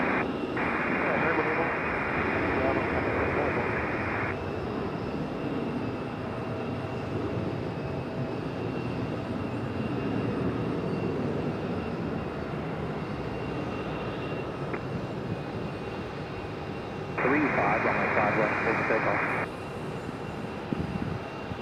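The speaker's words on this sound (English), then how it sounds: "FedEx ATR making its way in" A FedEx ATR turboprop arrives at Raleigh-Durham International with a steady distant drone under continuous background noise, while bursts of radio chatter come and go.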